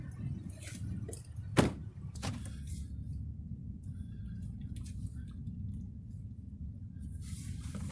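A car driving along a curved frontage road, with steady low engine and road rumble from inside the cabin and a sharp click or knock early on.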